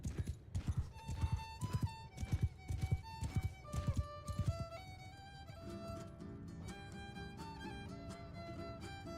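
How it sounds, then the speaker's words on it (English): Cavalry horses galloping in the video game Bannerlord, a loud rhythmic drumming of hooves for about five seconds that then gives way to sustained musical tones and quieter background. "Horse cavalry!"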